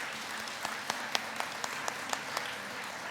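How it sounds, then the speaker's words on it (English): An audience at a United Way campaign closing event applauds campaign cabinet members, a soft, steady patter of many hands with a few sharper individual claps standing out, heard from some distance. "Let's give them a round of applause."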